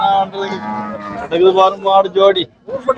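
Cattle at the Manapparai cattle market moo loudly and close by in several drawn-out, overlapping calls, with a short pause before one more low moo begins.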